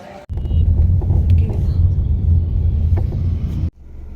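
Cars passing on a road, a steady near rumble of traffic with wind buffeting the microphone that lasts about three seconds before cutting off abruptly.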